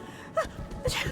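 A character in the video game Dishonored gives a short, sharp sneeze, preceded by a quick intake of breath, fairly quiet and close.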